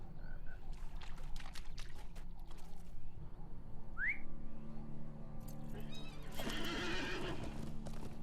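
Horse in the Lord of the Rings Online video game, a rising neigh mid-clip, then splashing and clip-clopping hooves through water over steady game ambience and croaking frogs, fairly loud throughout.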